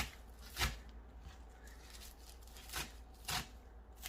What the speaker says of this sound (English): now that you've done your chopping of your spinach